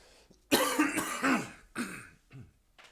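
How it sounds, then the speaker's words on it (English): A few harsh, dry coughs close up, in quick bursts with short gaps, ending in a quieter throaty cough. "Sorry, I'm really sorry about that cough."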